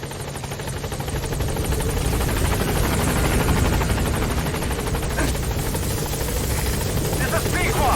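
Pequod, the rescue helicopter in Metal Gear Solid 5, arrives at a landing zone with a loud, steady rotor thump and engine roar that fills the whole stretch, with gunfire-like crackle and radio voices mixed underneath.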